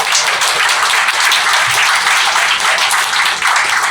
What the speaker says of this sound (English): Round of applause, please, for Pete.